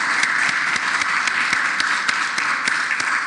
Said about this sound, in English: let's give another round of applause to our three wonderful speakers